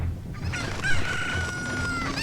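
A cuckoo (chicken) in Zelda: Ocarina of Time crows once with a drawn-out, high, wavering call, close and loud over a faint background murmur.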